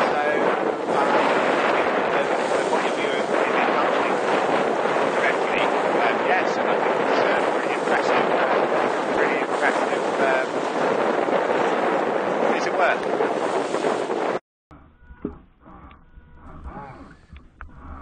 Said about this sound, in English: So here we are tacking from P2 to P3 and sailing into the sun.